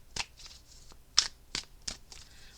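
A deck of tarot cards is shuffled in a few quick, crisp riffling bursts, close and fairly quiet, with short pauses between the flicks.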